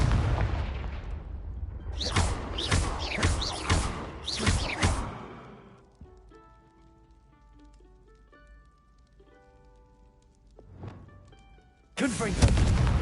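Confringo blasting spells in the game Hogwarts Legacy set off a run of loud, booming explosions with rushing whooshes, then a quieter stretch of musical tones, a single blast near the end and another burst right after it.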